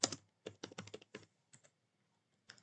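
Typing on a computer keyboard while entering a Tableau formula: quick bursts of close, crisp key clicks with short pauses between them, with no voices.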